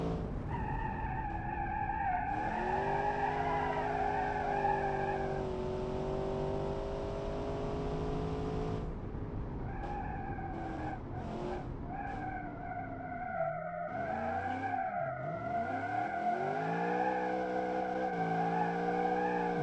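Gladiator 1000 car in the video game BeamNG.drive, engine droning and revving with loud tire skids and squeals that rise and fall continuously throughout, with no talking.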